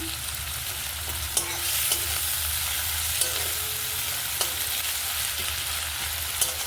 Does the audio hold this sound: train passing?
no